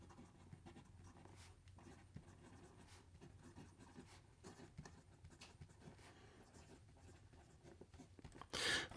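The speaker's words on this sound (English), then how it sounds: "This new gold nib provides a very nice writing experience." A Leonardo Momento Magico fountain pen with a gold nib writes on paper, giving soft, faint scratching and tapping strokes close up in a quiet room, ending with a brief louder rustle.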